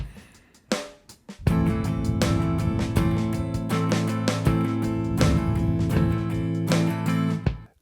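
Funk rhythm guitar strumming with the sixteenth-note pair leading each beat group, played loud and steady over a beat after a couple of opening hits, alone without any talking.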